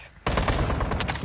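Sustained rapid gunfire in a shooter video game starts abruptly and continues as a loud, dense string of closely spaced shots.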